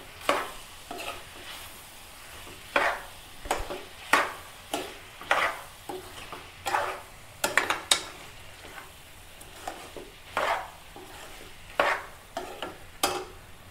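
Mutton liver fries in a pan with chili powder and tomato, and a spoon scrapes and stirs it in repeated short strokes over a quiet sizzle, with about a dozen distinct stirring scrapes spread across the stretch.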